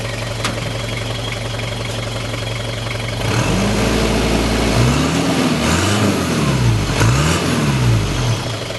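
Turbocharged car with a standard muffler revs through its exhaust, steady idle giving way to several rising and falling revs, close and loud with no talking.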